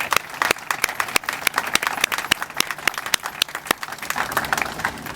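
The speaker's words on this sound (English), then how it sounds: "let's give ourselves all a hand clap," Audience applause at a community library event, a dense wash of many hands clapping steadily and fairly loud for about five seconds, with sharp individual claps standing out.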